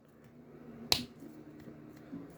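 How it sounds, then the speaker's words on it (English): Plastic parts of a Marvel Legends What If Hydra Stomper action figure snapping together, one sharp close click against a quiet room background. "Has a nice snapping sound"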